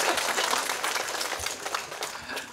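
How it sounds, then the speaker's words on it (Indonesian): An audience at a closing Mass gathering in Palembang breaks into brief applause, a soft, somewhat distant wash of clapping that fades slightly over a couple of seconds. "Kita berikan tepuk tangan."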